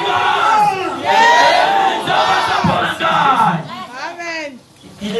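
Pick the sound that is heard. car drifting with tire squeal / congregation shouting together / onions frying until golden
congregation shouting together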